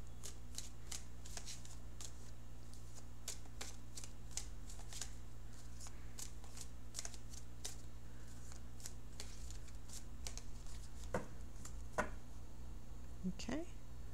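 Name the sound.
shuffling tarot cards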